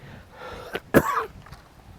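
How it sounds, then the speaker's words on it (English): A single harsh cough up close, preceded by a brief throat catch, then quiet breathing. "it's certainly making me cough"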